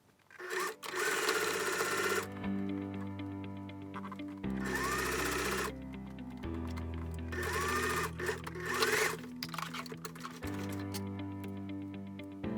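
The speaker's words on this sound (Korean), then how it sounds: "이렇게 처음부터 끝까지 쭉 박아서 연결을 해줄 겁니다." A sewing machine runs in several steady bursts of rapid stitching, with short pauses between runs, as fabric is sewn for a scrunchie hair tie, close and fairly loud with no talking.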